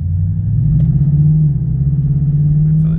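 A Ford Mustang S550 with a Coyote V8 running on a standalone Ford ECU drives slowly, its engine a steady, loud, low droning rumble heard up close with no change in pace.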